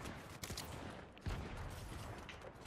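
Gunfire from the video game Fortnite: rapid bursts of shots crackle in a dense, continuous volley, fairly loud and close, with a sharper burst near the middle.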